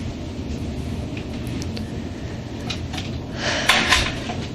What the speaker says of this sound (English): Would you mind closing the door, please?